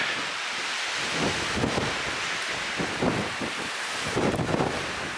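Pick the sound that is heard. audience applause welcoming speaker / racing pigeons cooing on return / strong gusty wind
strong gusty wind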